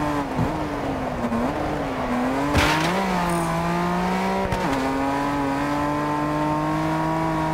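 Engine of a car driven in the racing game Test Drive Unlimited Solar Crown: a sustained tonal engine note that rises and dips as the car shifts and accelerates, with brief sharp bursts and occasional tire squeal along the way.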